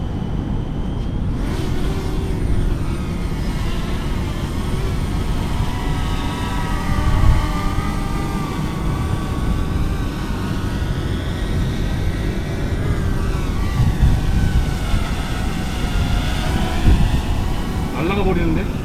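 A K918 MAX GPS drone flies with GPS mode off, its propellers giving a steady whining buzz whose pitch rises and falls as it drifts, close and continuous, with a person speaking over it at times.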